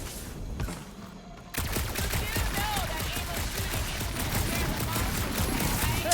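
Sustained rapid gunfire in the Guardians of the Galaxy video game, loud and continuous after a brief quieter opening, dense volleys filling the rest of the moment.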